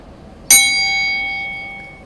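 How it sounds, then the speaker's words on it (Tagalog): A single debate timer warning bell strikes once, clear and close, its bright metallic tone ringing out and slowly decaying over about a second and a half with no talk. "There will be a warning bell."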